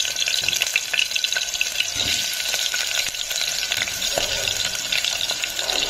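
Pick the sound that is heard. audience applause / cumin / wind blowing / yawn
cumin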